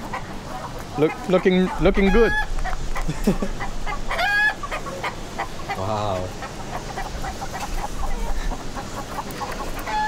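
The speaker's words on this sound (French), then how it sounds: "Ah, des poulets! Des beaux petits poulets!" Chickens clucking on a busy outdoor street, short bursts of clucks mixed into a dense crowd din with people talking nearby.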